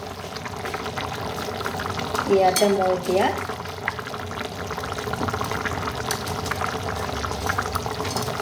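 A pot of liquid bubbles and simmers on the stove while paneer is being made, a steady soft boiling hiss running throughout, with a brief pouring or stirring splash partway through and a person talking over it.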